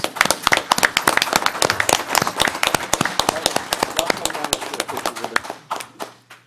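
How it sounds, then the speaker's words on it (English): A small audience at a county board of commissioners meeting claps in distinct, close, sharp hand strikes that thin out and fade toward the end, with some talk underneath. "Let's give her a round of applause."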